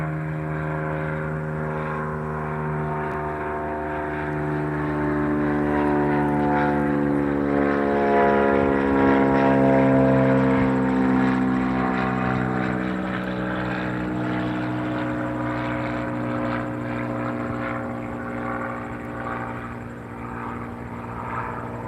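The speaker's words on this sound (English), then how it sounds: "Another small plane taking off." A small propeller plane takes off at Albany International Airport, its steady droning engine swelling louder toward the middle and then fading slightly as it climbs, heard continuously with no talk.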